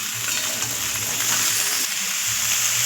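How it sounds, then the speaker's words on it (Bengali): Mixed winter vegetables for a Bengali five-vegetable curry sizzle and fry in a pan while being stirred, a close, steady crackle with scraping strokes from the stirring and no talking. "সব সবজিগুলোকে ভালো মতো করে নেড়ে সুন্দর করে একটু লাল লাল ভাজা ভাজা হয়ে যাবে, ততক্ষণ পর্যন্ত আমি এগুলোকে নাড়বো"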